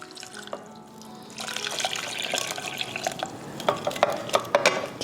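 Water is poured into a pot holding sliced oranges and lavender for a stovetop scent simmer. After a quiet start, the pour turns into a splashing, gurgling rush with small clinks, and it stays close and clear.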